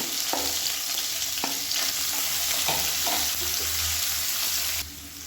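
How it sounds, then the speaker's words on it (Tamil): Sliced onion frying in a pan with green chillies and curry leaves gives a steady, loud sizzle, broken by several scraping stirs, before the hiss suddenly drops near the end. "மீடியம் சைஸாக ஒரு வெங்காயம் நீளமாக நறுக்கினதை சேர்த்துக்கலாம்."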